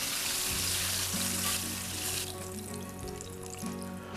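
Chicken tenders frying in hot oil give a loud, dense, continuous hiss and crackle close by, easing slightly partway through as bubbling settles, with a low hum underneath and no talking.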